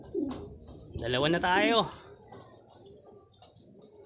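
Racing pigeons coo at a loft as a blue bar bird returns, a short burst of throaty cooing up close while someone speaks over and around it.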